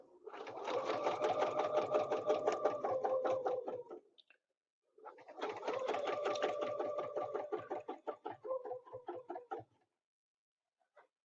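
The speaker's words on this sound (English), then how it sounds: "So we're going to stitch out to here." A sewing machine quilts along an Elevate ruler template in two long runs of rapid, even needle strokes. A short pause separates them, and the second run ends in a few slower, separate stitches.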